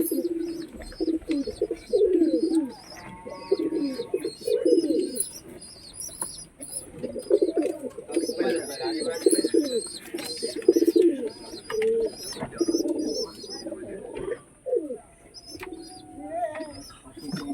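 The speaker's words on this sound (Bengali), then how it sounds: "কি পায়রা এটা, খেলা পায়রা নাকি এমনি ফেন্সি?" Pigeons coo repeatedly in low throaty bursts, loud and close, with bright chirps and occasional wing flaps throughout, and no talk.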